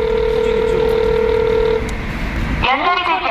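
An unanswered telephone call rings with a steady ringback tone for under two seconds, then an automated voice message begins.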